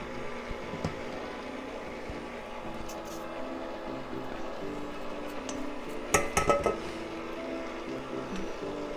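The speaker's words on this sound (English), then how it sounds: "I try to give it a quick scrape as good as I can." A utensil scrapes a hot pot of marshmallow mixture in a home kitchen, soft scratches and light clinks, with a brief louder cluster of metallic scraping near the end over a low background hum.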